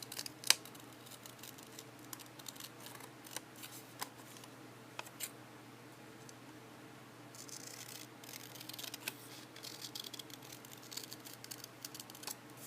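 Scissors trimming the sides of a printed paper pattern for American Girl doll clothes: quiet, close, repeated crisp snips and light paper rustle in an irregular rhythm over a faint steady hum.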